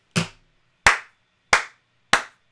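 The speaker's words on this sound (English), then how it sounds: "Round of applause for ColourPop on that one" Four sharp, evenly spaced hand claps ring out alone, each a crisp close smack with a short decay.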